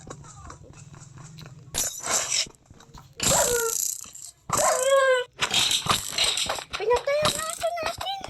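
A dog whines and whimpers in several drawn-out, wavering cries between bursts of louder noise, close and prominent, with people talking over parts of it.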